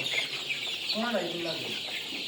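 Several Sonali chickens cluck close by in a crowded poultry shed over a constant background hum, their short, throaty calls overlapping now and then.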